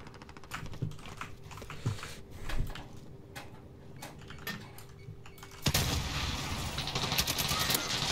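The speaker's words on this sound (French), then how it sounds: "Oh, he's shooting me" Enemy gunfire in Call of Duty: Modern Warfare first sounds as faint sharp shots among close, crisp keyboard clicks, then a dense, loud barrage of rapid fire floods in and continues to the end.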